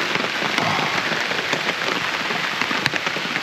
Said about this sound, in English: Biblical rain, isn't it?